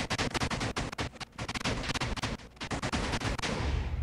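Minecraft TNT cannon firing, a rapid volley of sharp explosive blasts packed close together, with a couple of short gaps, loud and near with no voices.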